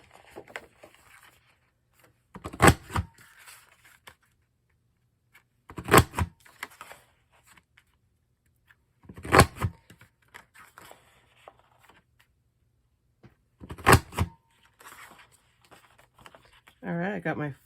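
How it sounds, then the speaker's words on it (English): A Creative Memories Dazzle border punch stamps scallops into paper, four distinct crunching punches spaced a few seconds apart, close and crisp against a quiet background. "I got my 5 little scallops punched"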